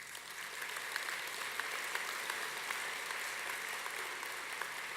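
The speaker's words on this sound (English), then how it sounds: "it deserves a huge round of applause." Sustained audience applause fills the room at a charity breakfast event, a dense steady wash of many hands clapping with a few sharper claps standing out, continuing without pause and with no talking over it.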